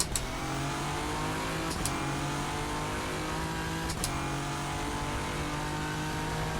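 A race car engine in the sim racing game rFactor 2 drones steadily around Suzuka during endurance practice, holding a sustained tone with a few brief shifts and sharp transient clicks, alone without voices.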